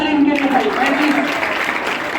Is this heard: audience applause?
yes